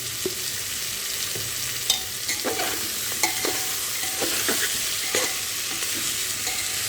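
Spices, salt and cumin powder are stirred in a hot frying pot for vegetable khichdi. A constant oily hiss runs under scattered, close scraping clicks of the spoon against the pot.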